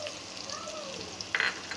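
Onion and crushed garlic fry in oil in a pan with a soft, steady sizzle, a louder crackling stir briefly rising near the end; faint voice sounds drift underneath.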